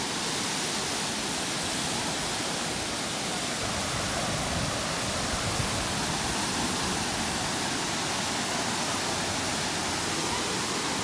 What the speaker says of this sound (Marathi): उंचावरनं खाली पडतं पाणी.